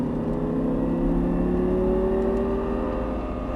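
An Audi R8 on a race track accelerates under throttle, its engine a close, sustained hum that climbs slowly in pitch over a few seconds, steady and alone without talk.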